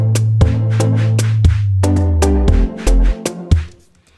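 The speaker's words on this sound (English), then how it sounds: "Here's a sine bass." A deep, smooth sine bass from the Logic Pro ES2 synth holds long, low sustained notes that shift in pitch, playing within a backing track punctuated by regular sharp percussive hits.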